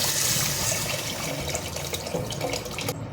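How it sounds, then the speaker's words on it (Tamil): A curry mixture of tomato, chilli powder and salt poured into a pan with sautéed onions for a spicy fish curry, a continuous loud liquid gush and splash lasting a few seconds, no voices. "இப்போ அந்த வெங்காயம் வதங்கி வந்ததுக்கப்புறம் இந்த குழம்பு எடுத்து நம்ம அதில் ஊற்றணும்"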